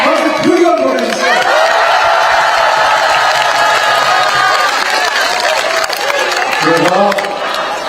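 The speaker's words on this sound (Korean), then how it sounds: "박수 크게 한번 보내주세요" A large outdoor crowd at a Gimmunsu election campaign rally in Bucheon claps, cheers and whoops loudly and continuously, with amplified voices and shouts rising over the din near the start and again toward the end.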